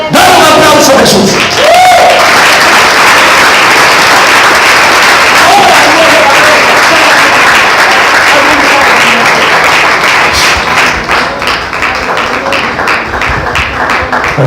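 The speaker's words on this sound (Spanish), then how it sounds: "Dale un aplauso a Jesús." Loud, sustained applause from a church congregation at an evangelical healing and miracles campaign service, with cheering and shouts mixed into the dense clapping throughout.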